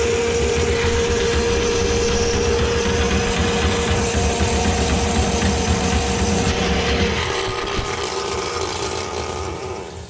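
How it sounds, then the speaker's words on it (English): Motorized drain snake spinning in a kitchen drain with water rinsing, a loud continuous whirring motor drone that eases slightly toward the end. "I'm going to run it a little bit and rinse it, let it spin around and rinse some of that stuff down the drain."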